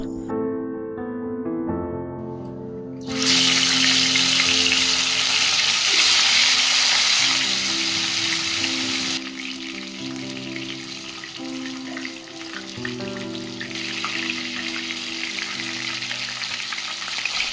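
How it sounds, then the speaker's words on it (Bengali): Tilapia pieces frying in hot oil in a wok, a loud continuous sizzle that flares up sharply and stays bright and crackling, under soft background music. "তেল গরম হয়ে গেলে মাছগুলি ভেজে নেব।"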